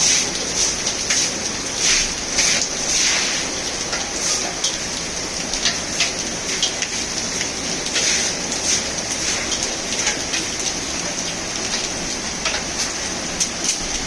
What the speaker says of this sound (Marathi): बघा पाऊसच पाऊस